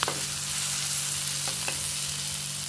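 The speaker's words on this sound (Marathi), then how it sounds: "हळद घेऊन छानपैकी परतून घ्यायचं" Turmeric and masala fry in a hot tawa for tawa tadka paneer, a steady close sizzle with faint stirring clicks throughout, no voices.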